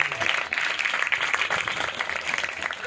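An audience at a church gathering claps hands in a dense, steady burst of applause, moderately loud and continuous for a few seconds.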